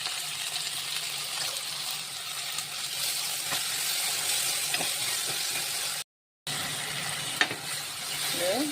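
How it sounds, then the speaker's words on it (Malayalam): Chopped tomato and okra sauté in a pan for a Kerala-style theeyal, giving a soft continuous sizzle with occasional stirring clinks and scrapes, briefly cutting out before resuming. "ഇത് ഒക്കെ കൂടി ഒന്ന് വഴറ്റിയെടുക്കണം"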